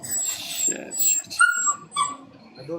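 Dogs yip, whimper and bark in short bursts at middle distance, mixed with people talking over a phone line.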